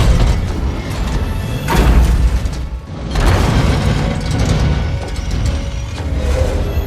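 Loud, dense in-game commotion from Halo, with rumbling booms, crashes and mechanical clatter filling the whole stretch, swelling twice and holding strong rather than one clean isolated blast.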